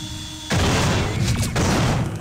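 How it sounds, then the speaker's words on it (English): A shotgun in the sci-fi horror game System Shock 2 lets off a heavy, booming blast with a rumbling tail, followed by a second burst of noise in a loud, reverberant space. "Let's see how the shotgun works."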